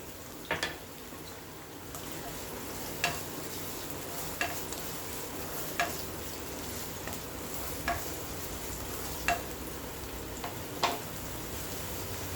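Chopped garlic, green chilli and onion fry in hot oil for gobi manchurian, a steady close sizzle with regular light clinks of a spoon stirring in the pan every second or so.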